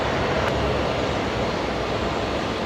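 A Link Airways Saab turboprop touching down on runway 01 right at Brisbane Airport, heard as a steady, loud, broadband engine roar with no break, close and continuous.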